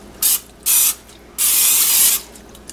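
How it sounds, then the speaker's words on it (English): Non-stick cooking spray hissing onto a pan in three close bursts: two short puffs, then one longer sustained spray. "spray your pan with some non-stick cooking spray"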